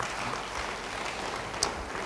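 A church congregation applauds at a sermon, a steady wash of many clapping hands at low-to-moderate level, with one sharper clap standing out near the end.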